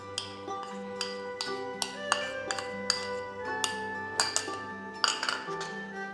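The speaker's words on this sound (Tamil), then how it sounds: "இதை நல்லா மிக்ஸ் பண்ணிக்கோங்க." A spoon clinks repeatedly against a metal pot while tomato kuzhambu is stirred together with water, ground spice powder, onion and garlic; the taps are close, bright and irregular, with no talk.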